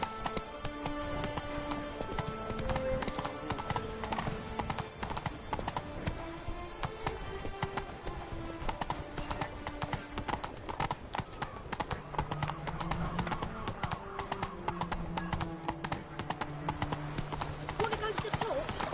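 Roach the horse gallops in The Witcher 3 video game, hooves clip-clopping in a fast, steady beat that runs the whole time under game music, with someone talking now and then.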